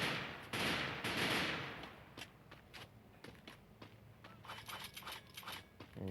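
Gunfire in the Garena Bleakout shooter game comes first as a heavy burst, then as scattered sharp shots and a quick run of rapid rounds, all fairly quiet.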